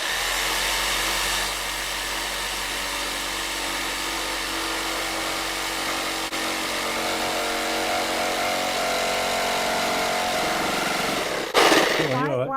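Steady, loud whine of a power saw running continuously through wood, with a brief rougher burst near the end; no voices heard.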